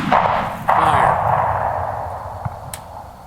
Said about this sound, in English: once you're ready to fire, put it on full cock. Aim. Fire.